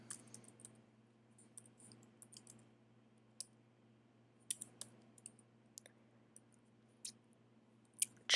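Code typed on a computer keyboard during a JavaScript lesson: sparse, quiet key clicks in small bursts and single taps, spread irregularly over a faint steady hum, with no speech.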